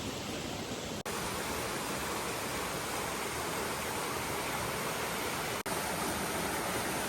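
A Thai waterfall roars as a steady, dense wash of falling water, loud and unbroken for the whole stretch, with only two tiny dropouts and no voices.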